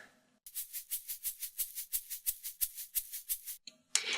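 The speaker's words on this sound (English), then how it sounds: "First of all, we have a shaker, totally old school thing to do, and sounds like this." A shaker percussion track in a music mix keeps a steady, even rhythm of crisp swishing shakes, about five per second, alone and fairly close.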